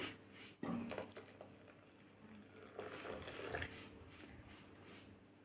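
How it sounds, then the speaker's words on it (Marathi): Water poured into a yogurt-based kadhi mixture in a home kitchen, a soft continuous splashing and trickling with a couple of louder pours, close and steady, with no talking. "परत थोडं पाणी घालते मी"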